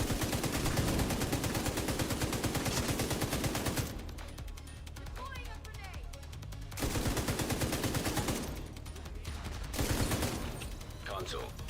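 A machine gun in the game Descent fires in long, loud, rapid bursts, with two short pauses between them, close and dominant; a voice speaks faintly in the background.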